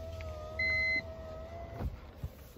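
A car's electronic warning chime sounds once, short and clear, over a low, steady engine hum and a faint sustained tone.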